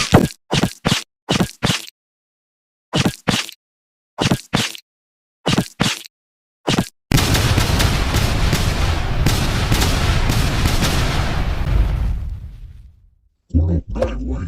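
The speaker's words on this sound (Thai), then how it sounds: "ฉันขอใช้ปืนพลาสมายิงกันแล้วกันนะ" A plasma gun fires in a Predator video game: a string of short, loud, evenly spaced blasts, then a long, dense roaring discharge that fades, followed by a few more sharp hits at the end.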